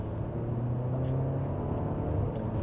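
2025 Audi A4 Allroad Premium Plus accelerating gently, heard from inside the cabin as a steady low engine and road rumble with a faint whir, even and unbroken.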